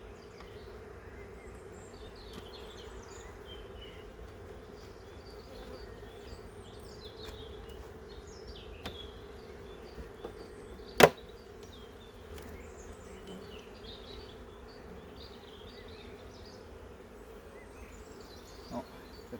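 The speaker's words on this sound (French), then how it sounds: "Il y a quand même des abeilles mais bon." Honeybees buzz around an open hive with no brood, a steady low hum that carries on throughout. Scattered faint insect chirps and a sharp click sit over the hum.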